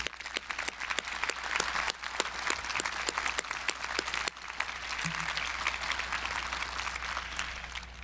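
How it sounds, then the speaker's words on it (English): A university commencement audience gives sustained applause, steady dense clapping from a large crowd with some sharper individual claps standing out nearby. "Please give them a round of applause."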